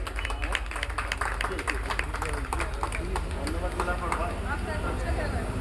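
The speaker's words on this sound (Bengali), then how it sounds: "সবাই মিলে একবার জোরে করতালি।" A crowd at a BJP political gathering in Entally claps loudly in a dense, steady burst of hand claps that runs throughout, with voices talking over it.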